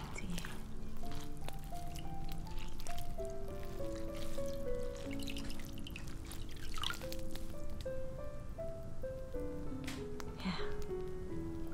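Water drips and trickles steadily while a forehead is washed clean in a relaxing ASMR care scene, a continuous close patter of drops over soft tonal background sound.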